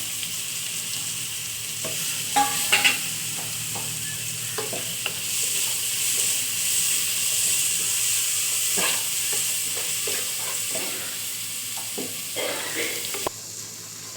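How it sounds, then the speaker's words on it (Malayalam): Onion, ginger, garlic and green chilli fry in a pan for an egg biryani, a steady close sizzle running throughout, broken by scraping stirs and a few clinks of the spoon, with no voice. "ഉള്ളിയും ബാക്കിയുള്ള ഉള്ള ഇഞ്ചി വെളുത്തുള്ളി പച്ചമുളകും ഇതെല്ലാം കൂടെ അങ്ങ് ഇട്ട് കൊടുക്കാം"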